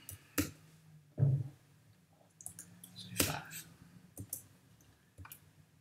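Sharp, faint computer mouse clicks sound close by, a handful spaced irregularly across a quiet room, with soft breathy noise in between and no speech.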